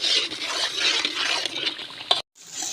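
Water poured into masala frying in a pan for a home fish curry, a steady hissing sizzle and trickle running for about two seconds before cutting off abruptly, then a fainter continuing sizzle.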